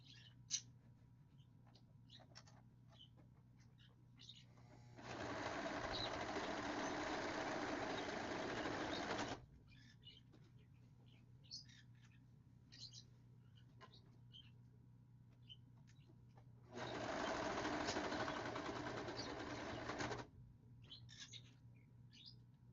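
A sewing machine stitches a quilted jacket in two sustained whirring bursts of about four seconds each, separated by quiet stretches with faint handling clicks and a low background hum.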